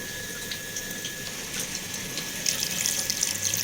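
Boiling water poured into a cooking pot in a home kitchen, a steady watery rush under a constant background hum, growing slightly louder toward the end, with no talk.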